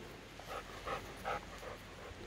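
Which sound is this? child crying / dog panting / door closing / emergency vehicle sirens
dog panting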